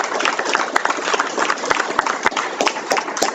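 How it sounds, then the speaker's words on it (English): A crowd at a school board meeting claps steadily in dense, continuous applause, with a few sharper individual claps standing out close by. "Let's give these ladies a round of applause."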